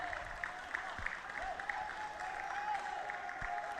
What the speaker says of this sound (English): taking a breather with a round of applause